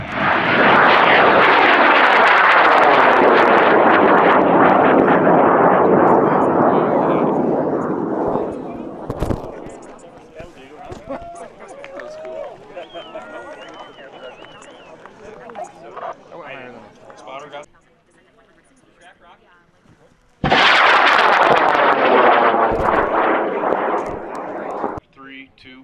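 An upscaled 4-inch Piercer model rocket launches at a sport launch in Alamosa, Colorado, with a loud roaring motor burn for about eight seconds that fades as it climbs. Voices talk during the quieter stretch before another loud roaring burst near the end.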